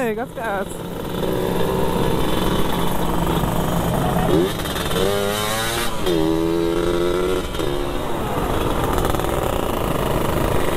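A sport-class motorcycle in Makassar revs and accelerates, its loud engine whine rising in pitch over a steady drone, with voices mixed in.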